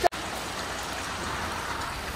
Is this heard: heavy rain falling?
yes